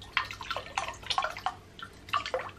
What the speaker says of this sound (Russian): сейчас налью в прозрачный стакан